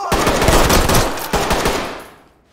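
A loud, close burst of rapid automatic gunfire in the tactical shooter Ready or Not, a quick string of sharp shots that tails off into a fading echo within about two seconds.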